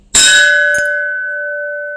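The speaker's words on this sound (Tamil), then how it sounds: "பானை அடித்து கட்டினேன். சவுண்டை பாருங்களேன்," An antique brass pot, about 7.5 inches, is struck once, giving a bright clang that settles into a long, clear, bell-like ring like a temple bell, with steady tones that hold for well over a second.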